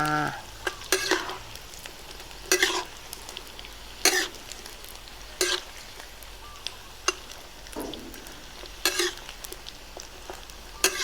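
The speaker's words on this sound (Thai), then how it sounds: "ปลากระแยงทอดกรอบ" Small climbing perch fry in oil until crispy. Sharp bursts of spatter and stirring land at roughly regular intervals over a quiet, faint sizzling background, with no speech.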